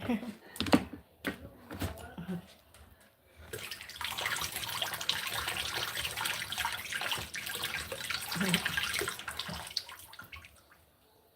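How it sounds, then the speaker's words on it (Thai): Hands being washed under a running tap, a steady rush of water at moderate level lasting several seconds, preceded by a few short knocks and clatters. "เราล้างมือกัน"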